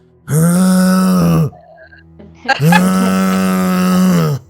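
A man imitates a horrible snore with his voice, giving two long, loud, throaty drawn-out groans separated by a short quiet gap.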